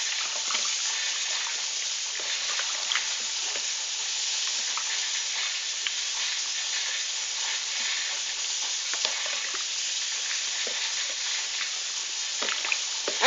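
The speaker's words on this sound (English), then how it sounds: "my mum's just mixing it all together" Homemade laundry liquid soap is stirred with soda crystals, making a continuous wet, hissing swish with small scrapes and clinks throughout. Nobody speaks.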